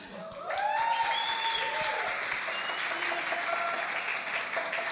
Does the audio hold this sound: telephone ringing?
no